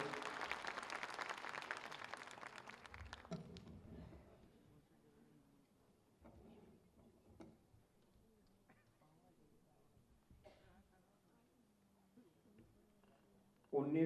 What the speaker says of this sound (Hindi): एक बार जोरदार तालियां बजाकर हम सब महाराज जी को आहुत करें